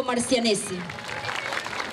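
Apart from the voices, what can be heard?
audience applause at an opening ceremony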